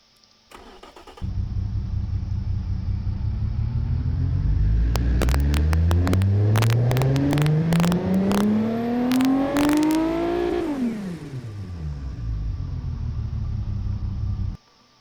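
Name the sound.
car engine test in Automation video game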